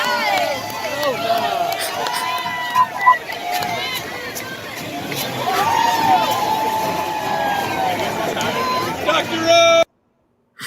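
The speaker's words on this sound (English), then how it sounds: "Let's get that cheer going." A crowd cheers and hollers with overlapping voices and whoops for about ten seconds, fairly loud and sustained, before cutting off abruptly near the end.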